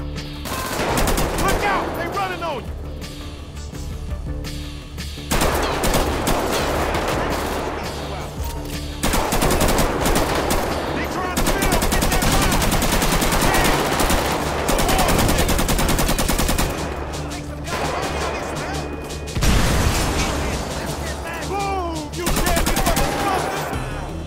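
Dense, continuous gunfire from the video game GTA V during a mission, with loud automatic bursts and overlapping shots rolling on almost without a break.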